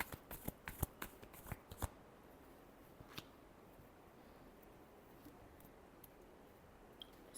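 Tarot cards are shuffled in a rapid flurry of crisp riffling clicks for about two seconds, then a few sparse taps and quiet handling, close and soft.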